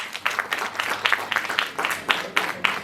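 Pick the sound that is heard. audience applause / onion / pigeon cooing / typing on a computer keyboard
audience applause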